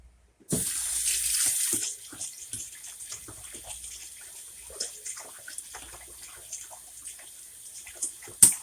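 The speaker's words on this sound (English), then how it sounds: "Now I'm doing just running water over it" Tap water runs into a pot being rinsed out while making chile verde, starting with a loud full gush, then easing to a steady, softer trickle and splash close by, ending with a sharp clunk.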